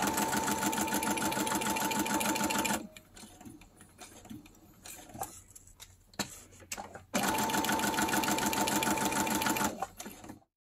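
A sewing machine stitching pieces of book paper for ephemera runs in two loud, steady bursts of rapid mechanical chatter, separated by a quieter stretch of handling clatter and rustling, close up.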